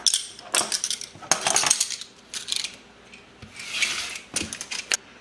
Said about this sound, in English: it's only right that I pull out the best wrench set that I've ever owned